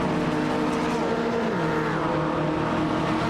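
GT race car in rFactor 2 at Lime Rock Park, engine note falling as it brakes hard into the pit lane, a loud continuous close-up roar with faint tyre scrub.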